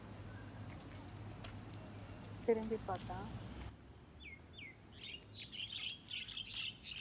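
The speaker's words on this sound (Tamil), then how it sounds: "ரொம்ப மைனாவோட சத்தம் கேட்டுச்சேன்." Javan myna birds call near a temple, bright chirps and squawks rising in the second half over a low traffic-like rumble, with a brief spoken word partway through.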